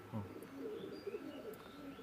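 Pakistani Teddy pigeons give soft, low cooing calls close by, with a couple of faint higher chirps over a quiet background.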